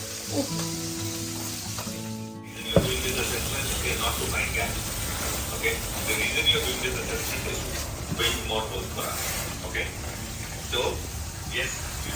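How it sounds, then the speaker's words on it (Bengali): Pabda fish fry in hot oil with a loud, continuous sizzle and scattered popping spatters from close by, while someone talks over the cooking. "চোখে তেল ছিল যে পাবদা মাছের, এত পাজি মাছগুলো পটাপট ছিটতে থাকে"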